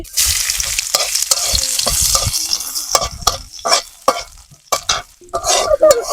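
Dried chilli, bay leaves, ginger and crushed garlic fry in hot oil, sizzling and crackling brightly while a utensil stirs and scrapes the pan in bursts, close and loud, with no talking.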